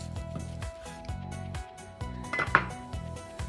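A knife slices thinly through partially frozen beef for jerky, giving a steady series of soft, regular cutting strokes close by, with a brief sharper clink near the end.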